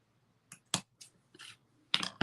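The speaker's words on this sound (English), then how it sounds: "I'm going to cut this end off" Scissors cut off the end of trim for mouse ears, giving a handful of close, crisp snips and clicks spaced unevenly across a quiet background.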